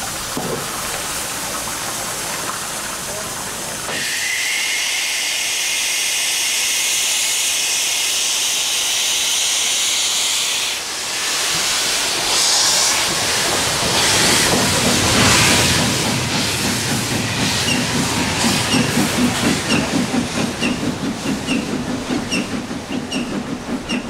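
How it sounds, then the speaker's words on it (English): A steam locomotive on a Baltic island line sends out a strong continuous hiss of escaping steam, then starts moving, with rhythmic chuffing and wheel clatter building as it departs. "The steam locomotive is so energetic and full of life that I feel a close bond with her."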